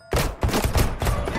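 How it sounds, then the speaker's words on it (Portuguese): Gunfire in the video game Deceit 2, a rapid burst of several loud, close shots in quick succession filling the whole moment. "Ele atirou no Alan."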